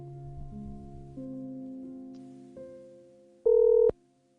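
A telephone busy tone after a dropped call: steady low tones give way to a short, loud, sharp beep near the end, heard alone without talk.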